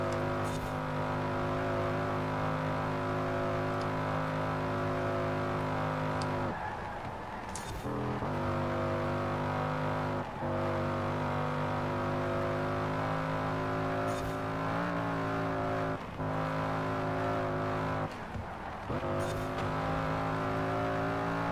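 Honda NSX race car in a racing video game, its engine droning steadily at high revs with a strong harmonic whine, briefly dropping at several gear changes before climbing again, loud and continuous.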